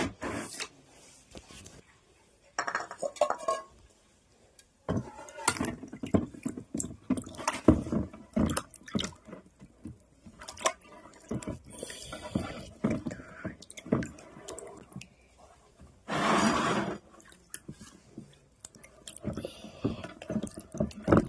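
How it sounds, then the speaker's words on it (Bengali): Plates and bowls being washed by hand with water, with irregular splashes, drips and clinks of dishware coming in bursts over about twenty seconds, close by, with occasional speech. "এই থালা বাটিগুলোকে ধুয়ে নেবো আগে আগে।"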